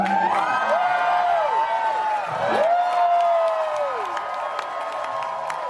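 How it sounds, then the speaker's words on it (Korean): A crowd gives a standing ovation, with cheering and gliding whoops rising over a steady wash of applause that carries on throughout. "와, 기립박수."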